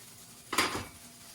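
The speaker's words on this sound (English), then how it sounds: "And now we're just gonna smear the eggs on top." A utensil scrapes briefly across a plate while eggs are smeared over it, one short clink-and-scrape close by in an otherwise quiet room.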